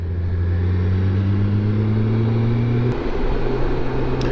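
A car merging onto Interstate 240 in Memphis gives a steady, close engine drone heard from inside. The pitch climbs slowly, then drops abruptly near the three-second mark as it shifts and keeps pulling, with no voices.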